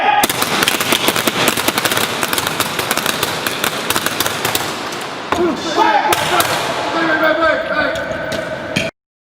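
Rapid bursts of prop gunfire on the set of an action film shoot, dense crackling shots rattling loudly and continuously for several seconds before cutting off abruptly, with a voice calling out at the start.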